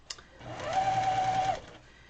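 A sewing machine quilting loop stitches on a pillow runs in one short, steady whirring burst, close and alone, starting after a small click and winding down after about a second.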